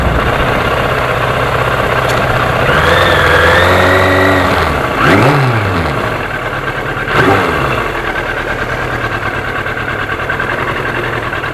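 A 1991 Yamaha FZR motorcycle engine runs steadily near at hand, with a couple of rising revs and quick throttle blips over a constant idle-like drone.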